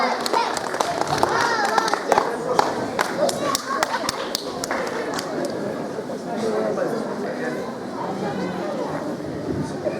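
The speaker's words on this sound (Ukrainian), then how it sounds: "ваші оплески" An audience at a song festival in Bucha gives scattered, moderately loud clapping, with sharp individual claps standing out over a continuous murmur of chatter.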